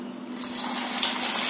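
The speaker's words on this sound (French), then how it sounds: "je plonge une boulette pour m'assurer que l'huile est bien chaude" Beef meatball dropped into hot frying oil, a steady hissing sizzle that swells slightly louder, heard alone.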